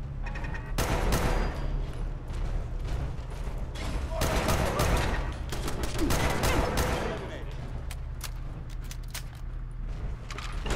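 Turret gunfire and bursts of combat fill a Fallout 4 facility fight, with rapid repeated shots and impacts throughout under game dialogue.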